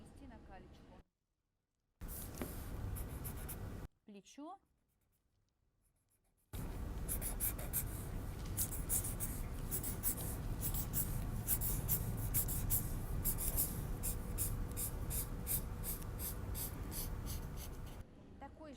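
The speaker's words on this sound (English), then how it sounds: "First, I need to draw the front neckline on the tracing paper." Pencil scratching on tracing paper while drafting a front neckline for a vest pattern, a steady close dry rubbing with a short break near the start and speech alongside.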